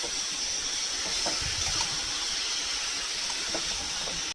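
Raw banana pieces and soybean chunks fry in oil with spices, giving a steady, loud, continuous sizzling hiss with faint crackles throughout and no talk.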